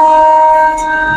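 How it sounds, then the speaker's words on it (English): A train horn blasts loud and steady as a sustained harmonic chord, heard up close from aboard a moving passenger train near a tunnel. "The train is bumping the horn again"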